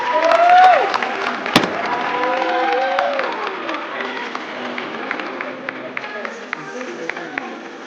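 Audience at the Miss Meghalaya pageant breaks into applause and cheering, a dense crowd wash with scattered claps and shouts, loud at first then thinning, while a host's amplified voice talks over it.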